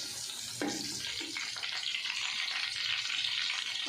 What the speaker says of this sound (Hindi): देसी लहसुन है, इसको हम 1-2 मिनट के लिए हल्का सा सौते करते हैं